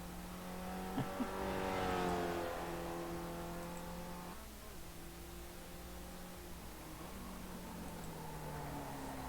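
A race car engine in the iRacing sim game on Mid-Ohio circuit revs high and sustained, pitch climbing then dropping through shifts, steady and moderately loud with a faint hiss underneath.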